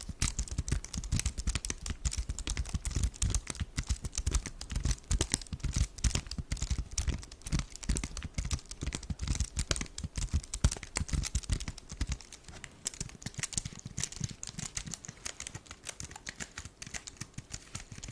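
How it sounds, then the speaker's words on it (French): Rapid, steady clicking of keys on a small keyboard, close and crisp, continuing without pause and softening slightly toward the end, with no talking over it. "le son de ce petit clavier est incroyable"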